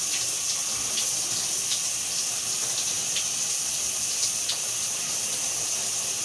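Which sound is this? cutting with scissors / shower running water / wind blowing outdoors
shower running water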